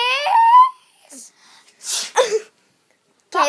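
A young girl sneezes in short bursts, with a brief vocal sound first and then two close, forceful sneeze-like blasts, followed by another near the end, at home in a kids' show setting.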